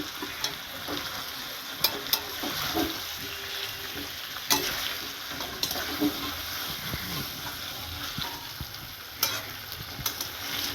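Potatoes fry in a pan with spiced masala, a continuous close sizzle punctuated by scattered spoon clinks and stirring scrapes, with a voice talking faintly underneath.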